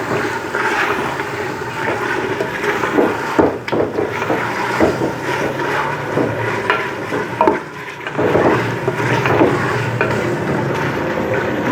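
Chicken pieces sizzle and fry in masala while being stirred, as the meat is browned before potatoes go into a chicken and potato curry. A steady close frying hiss runs throughout, broken by occasional scraping stirs.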